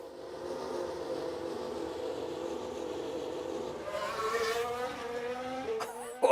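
Formula 1 race car engines in the F1 Manager 2022 video game drone steadily at a distance, rising to a higher-pitched rev toward the end with a brief louder burst at the finish.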